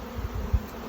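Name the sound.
honey bees being shaken off a frame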